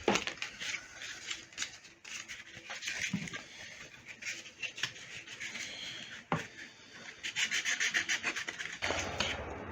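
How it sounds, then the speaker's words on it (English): Sandpaper works a wooden guitar headstock veneer in close, repeated rasping strokes with an uneven rhythm and brief pauses between passes. No one speaks. "Sanding isn't the most riveting of viewing"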